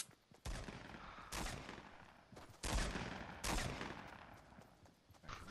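Gunfire in the video game Fortnite comes as several loud, broadband bursts at irregular intervals over a continuous background of game noise, with no talking.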